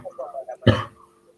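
A single sharp, throaty cough bursts out after a few murmured speech sounds, loud and close, then trails off quickly into near silence.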